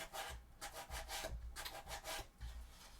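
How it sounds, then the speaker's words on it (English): A cosplay chainsword prop is sanded by hand, with repeated rhythmic rubbing strokes of a scraping, gritty texture, heard close but fairly soft. "I need to do some more sanding"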